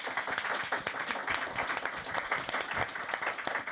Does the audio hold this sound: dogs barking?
no